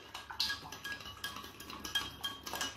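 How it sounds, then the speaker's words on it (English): A spoon stirring sugar and water together to dissolve the sugar, light repeated clinks and scrapes against the container in an uneven rhythm, quiet and close with no talking. "Stir the two together using your spoon until the sugar has dissolved."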